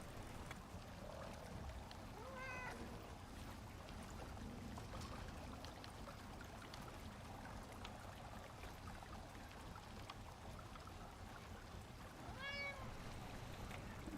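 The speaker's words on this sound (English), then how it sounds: "I'm trying to scare the cat away and it won't go." Two short cat meows, one early and one near the end, rise faintly over a steady broadband background noise inside a game workshop, with no talking.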